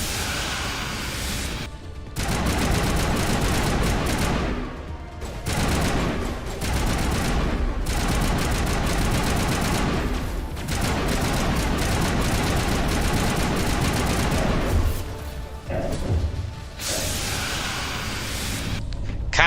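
Dense bursts of automatic gunfire and crashing impacts in a Mass Effect firefight against a Krogan, loud sustained volleys broken by short pauses, with a few heavier booms.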